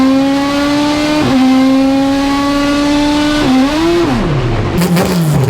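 An all-motor K-series Honda Civic roars through a drag race, its high engine note climbing steadily through the gears with brief dips at each shift, loud and close throughout, with no voices.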